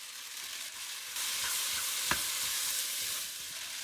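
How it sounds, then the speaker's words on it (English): Glass noodles being stir-fried with bean sprouts in a pan give a soft, steady sizzle with faint stirring scrapes and one brief clink, heard alone and fairly quiet. "add the noodles into stir fry"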